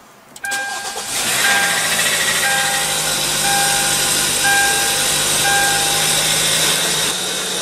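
A 2015 Hyundai Tucson engine starts by push-button and cranks briefly, then catches and settles into a steady, loud, close idle hum that runs to the end.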